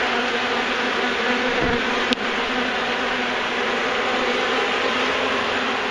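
Honeybees buzz continuously during a hive removal in Wellington, Florida, a dense steady hum close by with one brief click partway through.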